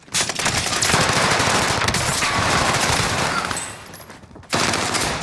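Rapid automatic gunfire crackles almost nonstop in a Call of Duty Vanguard Warzone match, dense and loud bursts over a few seconds with a brief lull before firing resumes.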